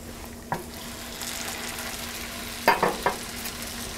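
Shrimp frying in garlic butter in a pan over medium-high heat gives a steady, close sizzle, broken by a few sharp clanks and stirring knocks near the middle.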